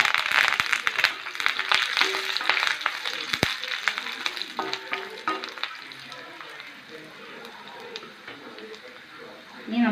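Dried red chilies and curry leaves sizzle and crackle loudly in hot oil, a dense frying hiss with scattered pops and a spoon stirring now and then, steady throughout.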